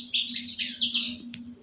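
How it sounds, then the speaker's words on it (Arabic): Goldfinch chicks in a cage chirp in a dense, high twittering chorus, close and steady, with a faint low hum underneath. "فراخ الحسون."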